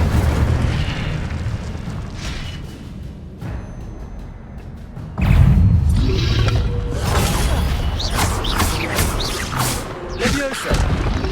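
Fiery magical bursts from the Incendio spell in the video game Hogwarts Legacy roar loudly, with a sustained whooshing blast that surges midway and carries on alongside other crackling, swishing effects.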